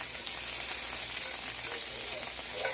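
A margarine-like spread melting in a hot pan gives a steady, dense sizzle that continues loud and unbroken, with faint crackles and no voice over it.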